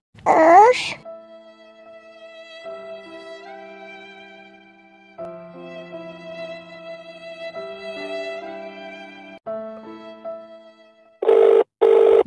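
A telephone in a Bangla comedy cartoon rings unanswered: sustained tonal sounds play for most of the stretch before short, loud repeated ring bursts arrive near the end, with a brief voice at the start.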